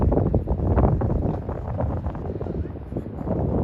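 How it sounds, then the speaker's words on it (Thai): Strong wind gusting around a boat in Amsterdam, a loud continuous roar buffeting the microphone throughout, with faint rustling underneath. "ลมแรง"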